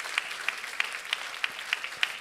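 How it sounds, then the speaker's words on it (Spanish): A church congregation claps together in a steady rhythmic beat, sharp evenly spaced claps repeating about three times a second over a soft room hum. "Dale un aplauso al Señor"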